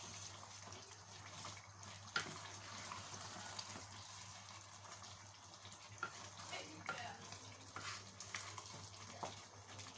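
A wooden spoon stirs and crushes tomatoes in a pot of Ghanaian salted tilapia and eggplant stew, with quiet wet scrapes and occasional sharper knocks over a low simmering hiss.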